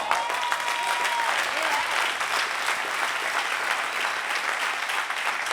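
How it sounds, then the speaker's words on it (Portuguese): A congregation at a motivational talk applauds continuously, producing an even, crowded wash of clapping that holds at a steady level throughout without a break. "Eu senti que essas salvas de palmas foram um pouco tímidas por parte de alguns."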